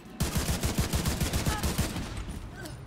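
Rapid gunfire in the video game The Division 2: a loud burst of repeated shots in quick rhythm for about a second and a half, then fading into quieter rumbling game noise.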